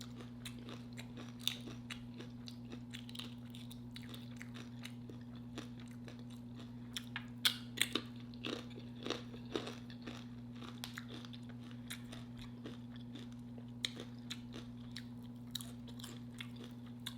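Crunchy homemade Doritos chips are chewed close up, with a quiet series of irregular crisp bites and crunches over a constant low electrical hum.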